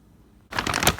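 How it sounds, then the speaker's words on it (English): Scissors snip into the outer plastic of a 12 lb Archer Farms cook-in-bag homestyle turkey, a brief, crisp, loud crinkling cut that starts abruptly after near silence. "I'm gonna just use a pair of scissors to kind of start this and then tear it open"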